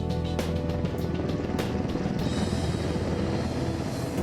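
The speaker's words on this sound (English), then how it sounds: "One of a helicopter's greatest handicaps during a rescue operation like Desert One is the noise made by its rotors." Helicopter rotor thumping and engine whine, loud and close, with rapid rhythmic blade slaps over a dense steady roar that continues without pause.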